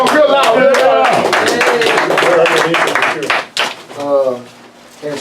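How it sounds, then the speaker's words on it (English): A group clapping loudly together at a pop group gathering, steady applause mixed with voices talking over it, the clapping fading briefly near the end as talk continues. "we got to clap loud because Tom trying to be so quiet"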